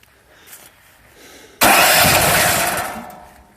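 After a quiet lead-in with faint handling noise, the engine of a homemade sawmill suddenly catches and bursts into a loud, steady running roar close by.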